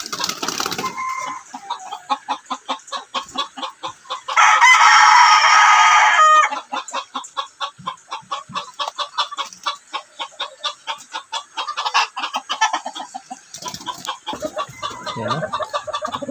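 Loud Bisaya chickens cluck steadily and close by, while a rooster crows once in a sustained, strained call partway through.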